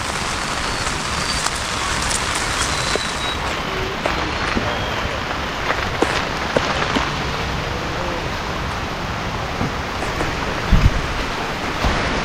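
Steady rain falls throughout on an outdoor riverside setting by a farm field, a continuous even hiss with scattered louder drops and a brief thump near the end.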